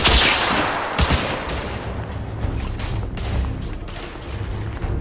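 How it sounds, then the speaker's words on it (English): Suppressive gunfire in The Order 1886 video game, set in a Victorian London firefight: a loud opening blast followed by a dense rattle of mixed shots and impacts that keeps going under a rumbling battle din. "Igraine, lay down suppressive fire!"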